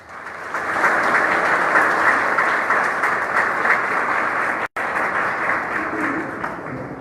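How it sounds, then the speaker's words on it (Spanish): A lecture audience at a lawyers' association event applauds an introduced speaker, with dense, sustained clapping that swells quickly and holds steady for several seconds, with a brief dropout near the end. "Lo recibimos con un fuerte aplauso."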